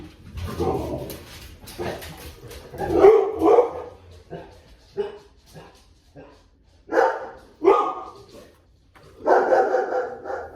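Several dogs bark in short, scattered bursts with some whimpering and yips in between, fairly close to the listener, while a person talks intermittently among the barks.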